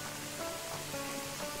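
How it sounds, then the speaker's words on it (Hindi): Steady, continuous rain during a mountain trek in extreme weather makes a dense, even hiss with no breaks, quiet and diffuse in the background. "लगातार तब से बारिश"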